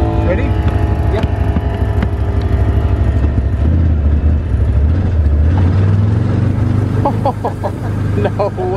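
A life-sized remote-controlled car runs with a loud, steady engine drone close by, and people talk over it throughout.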